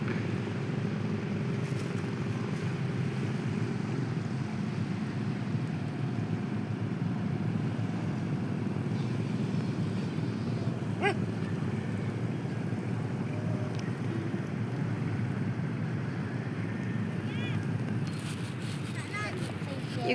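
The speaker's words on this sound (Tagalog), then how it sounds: "Ayun, may papadating na naman na bangka." A steady low boat engine drone from an approaching boat at the seaside, with wind buffeting the microphone, continuous and fairly loud, as someone talks over it.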